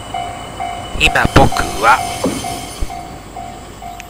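A railroad crossing bell on the Nanao Line in Tsubata, Ishikawa, Japan, rings in a steady, even rhythm while someone speaks briefly in Japanese and some clattering noises pass close by.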